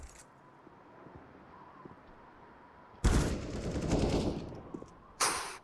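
Counter-Strike gunfire on the Nuke map during a Team Liquid vs FURIA match: a quiet lull breaks into a loud, rapid exchange of shots, then another sharp burst near the end.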